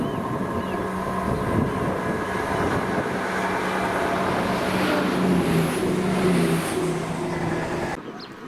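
Train 2L60 from Arbroath to Edinburgh hauled by locomotive 17412 passing at Monifeith, a sustained rumbling roar with wind noise that swells and holds, then cuts off abruptly.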